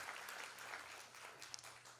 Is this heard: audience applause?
yes